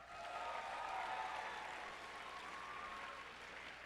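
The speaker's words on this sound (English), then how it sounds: "One more round of applause for the main six." An audience at a BronyCon 2015 cosplay contest claps for the costumed performers, a steady, distant wash of applause that holds for a few seconds with a slight swell early on.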